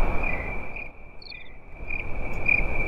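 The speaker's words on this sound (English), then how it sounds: "It's crickets." Crickets chirp in a steady, continuous high trill that holds throughout, loud and close with no other sounds.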